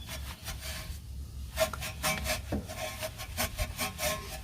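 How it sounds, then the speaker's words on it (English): A large woolly wheel brush scrubs the inner barrels of car wheels, giving a steady rubbing swish with uneven strokes, close and moderately loud, with no talking. "I'm going to take my large wheel woolly. I'm going to scrub the interior of the barrels."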